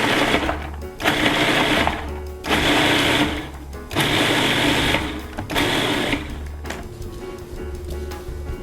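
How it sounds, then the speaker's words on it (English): Food processor pulsing shallots in a kitchen, five loud motor bursts of about a second each separated by short pauses, followed by a quieter steady hum. "I will pulse the shallots"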